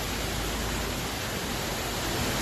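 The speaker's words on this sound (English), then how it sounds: "it's pouring down raining. I'm sure you guys can hear the rain" Heavy rain pours down outside in Virginia, a dense, steady hiss of falling water filling the whole stretch without pause.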